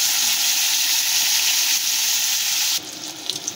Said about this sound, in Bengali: মাছ ভাজার তেলেতে আমরা বেগুনগুলো ভেজে নেব